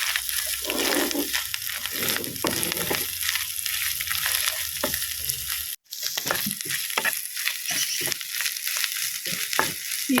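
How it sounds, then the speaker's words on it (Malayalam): Grated coconut frying and being stirred in a pan for a Kerala jackfruit erissery, a steady close sizzle with scraping stir strokes, briefly cut off for a moment midway. "എന്നിട്ട് ആ തേങ്ങ നന്നായിട്ട് വറുത്തെടുക്കണം"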